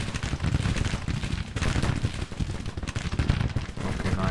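Civil War cannon and artillery fire in the Grand Tactician strategy game, a dense rolling barrage of booms and crackling gunfire that stays loud and continuous throughout.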